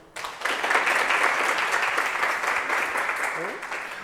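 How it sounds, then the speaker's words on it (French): An audience claps steadily for a few seconds, a full even burst of applause after a brief quiet start. "la fondation Viséo que nous pouvons applaudir aussi"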